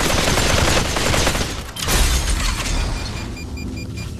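Dense, loud bursts of rapid gunfire and explosions fill a firefight in the VR battle royale game Population: One, continuous shooting close up with a brief lull before another heavy volley.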